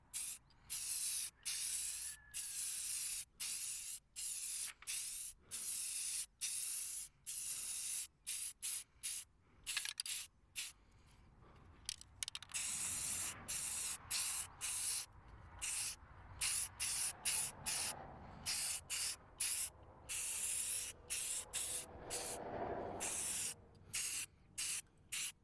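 Spray paint hisses onto a plastic truck grill in many short bursts, each a sharp, close hiss with brief silent gaps between them and a few longer sprays later on.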